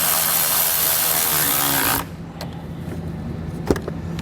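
Power tool tightening a part back down during a Curt T-connector trailer wiring install on a 2017 Ford Edge, a loud steady whir for about two seconds, then stopping, followed by quiet with a few small clicks.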